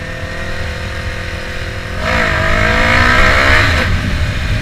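A Yamaha R3 motorcycle revs hard and accelerates as the rider tries a wheelie, the engine note climbing steadily and loud, close by, with no voices over it.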